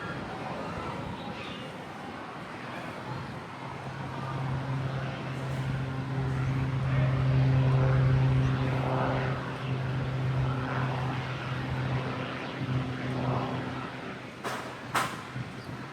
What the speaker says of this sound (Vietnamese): Máy bay huấn luyện nhỏ nhẹ nên thế là bay rất là nhanh.